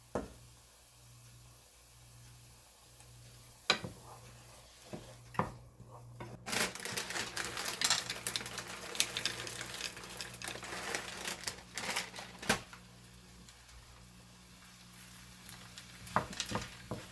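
Peas and carrots sizzle quietly in a pan with soy and hoisin sauce, with soft crackling. Several sharp clicks and clatters of utensils fall in the middle, and the sizzle grows louder as stirring begins.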